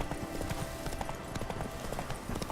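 Hoofbeats of Roach, Geralt's horse in The Witcher 3, clip-clopping in a steady trotting rhythm, close and clear over light ambient game sound.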